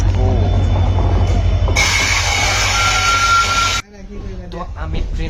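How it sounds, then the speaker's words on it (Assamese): Passenger train running from Dibrugarh to Rangia, a steady loud low rumble of carriages with a brighter rushing section, then a sudden drop to quieter rolling noise as a voice speaks over it. "তো আমি ট্ৰেইনৰ যাত্ৰা আৰম্ভ কৰিছো"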